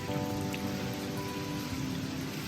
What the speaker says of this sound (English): it's also raining on us